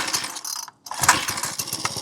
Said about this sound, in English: Let's see what it's gonna take to get this thing started